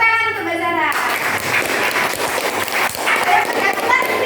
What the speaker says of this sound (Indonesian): tepuk tangan untuk Mbak Sarah.